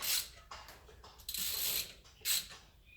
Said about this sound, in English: takes the same 19mm socket set. We're going to tighten these now.